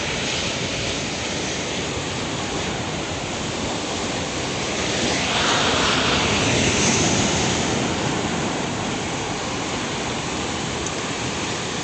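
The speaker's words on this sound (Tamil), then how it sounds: "சரியான காற்றாக இருக்குது மழையா இருக்குது" Strong wind and rain beat at the sea coast beside a house at risk from the sea, a dense, continuous roar of wind and surf that swells louder midway and stays loud and close throughout.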